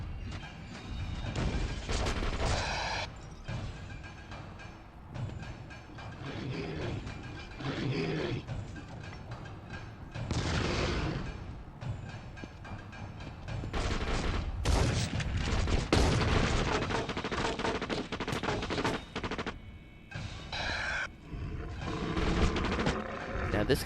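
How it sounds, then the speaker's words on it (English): Bursts of gunfire and booming impacts in a firefight between marksmen and gang members in the video game The Suffering: Ties That Bind, loud irregular volleys separated by quieter stretches, with growling creature sounds mixed in. "there's some marksmen, and they're engaged in a firefight with Jordan's men"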